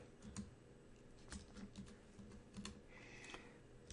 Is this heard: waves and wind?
no